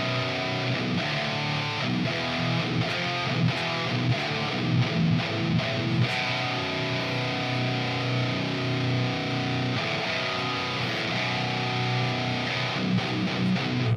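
Distorted electric guitar riffing through a 5150 amp sim with a close mic and yellow Super Distortion pickup, a dense chugging, trebly tone played steadily with palm-muted rhythmic attacks throughout.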